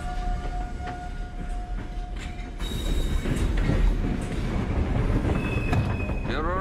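A long-distance passenger train running on the rail line to Murmansk in northwest Russia, a steady rumbling roll with faint clatter and a brief squeal near the end, heard from inside a compartment with occasional faint voices.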